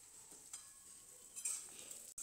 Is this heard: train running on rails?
no